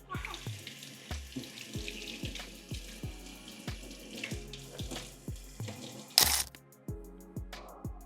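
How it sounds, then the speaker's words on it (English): Running tap water splashing into a kitchen sink during handwashing, a steady faint stream broken by repeated soft clicks and knocks, with a sharp clatter near the end. "we're going to wash our hands again."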